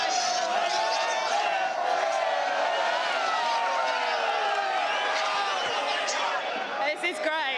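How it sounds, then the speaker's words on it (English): A racecourse crowd at the Cox Plate at Moonee Valley cheers and whoops in a dense, sustained roar of many voices, loud and continuous throughout the clip. "the crowd have just noticed us coming back here again"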